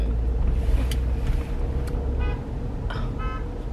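Busy city street traffic with cars rumbling steadily close by and a couple of short horn toots near the end, no talking.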